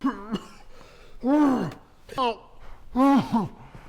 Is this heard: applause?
no